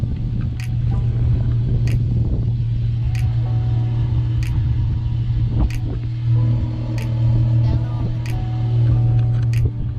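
Modified-exhaust Chrysler 300S V6 idling, a steady low rumble with a faint rhythmic ticking across the top, close and unbroken throughout.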